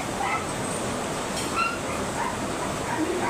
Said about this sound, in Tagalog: Maingay po yung aso mga kabisnes.